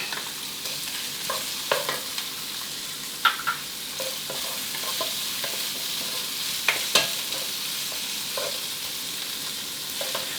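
Tomatoes frying with minced pork in a pan, giving a steady dense sizzle with scattered pops and occasional clicks of stirring, close and even throughout, no talking.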